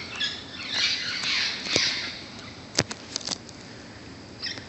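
Harsh, high squawks from green parrots sound in a few scattered bursts, with short sharp calls and clicks in between.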